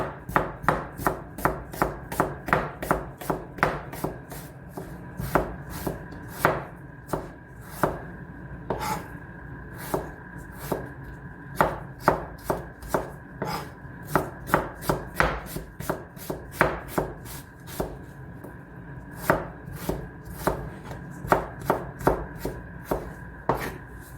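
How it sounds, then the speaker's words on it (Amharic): Knife chopping an onion into long thin slices on a board for an Arab koshari dish, a steady run of sharp, close taps in quick bursts throughout with no talk. "ሽንኩርቴን በዚህ መልኩ እንደዚህ በረጃጅሙ ወይም ሽሪሚሪ እከትፋለሁ ማለት ነው።"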